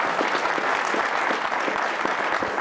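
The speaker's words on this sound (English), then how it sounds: "I would like to invite our audience to give a vote of thanks, a round of applause." A round of applause from a conference audience thanking a security panel at the Davos 2017 forum, dense rapid clapping that stays steady and fairly loud for the whole stretch.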